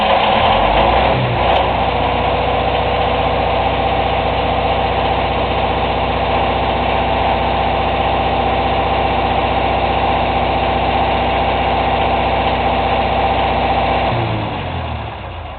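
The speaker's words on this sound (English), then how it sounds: "the engine probably is just going to start" A military generator engine (MEP series) cranks and catches, then settles into a loud, steady idle with a low humming drone before winding down at the end.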